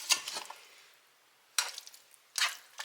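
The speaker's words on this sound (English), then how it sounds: "just crumble it up in there and get it stirred in" Stirring crumbled bacon into ramen: three separate bursts of a utensil scraping and clinking against the pot, close and fairly quiet, with brief pauses between, no voices.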